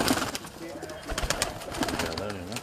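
Pigeons at a home loft in Mirpur, Azad Kashmir, cooing in soft repeated throaty calls close by, under someone talking.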